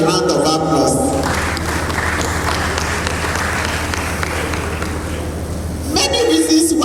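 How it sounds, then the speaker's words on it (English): Conference audience at a business forum breaks into sustained applause, a dense steady wash of clapping that holds for several seconds before fading as talk resumes. "And I think they deserve a round of applause."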